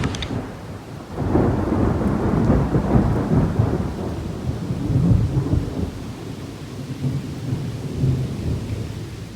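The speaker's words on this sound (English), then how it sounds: "hopefully you can hear that thunderstorms are moving in" Thunder rumbles in as a storm approaches, a long rolling growl that swells after a second and slowly fades over steady rain pattering nearby.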